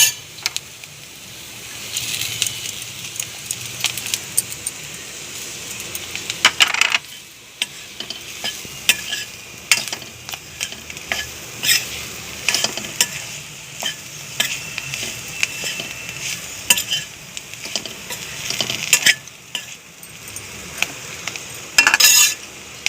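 Potato pieces stirred in hot oil in a frying pan for a Maharashtrian papdi dry vegetable dish, steady sizzling with repeated scraping and clinking of a spoon against the pan, close and busy.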